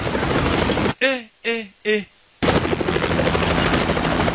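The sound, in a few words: helicopter in the movie Extraction 2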